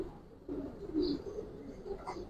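Low, throaty cooing from a female Giribaz pigeon of the Palla line in a loft, repeated in soft rolling phrases at close range, with faint chirps above and no speech.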